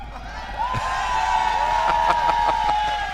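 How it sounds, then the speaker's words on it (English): A Japanese crowd at a Street Fighter V tournament roars in a swelling cheer of relief, loud and sustained with whoops and shouts over an electronic tone. "A well-deserved cheer of relief,"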